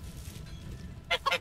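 A rooster in the medieval farming game Medieval Dynasty gives two short, loud, honking calls close by, following a low background murmur.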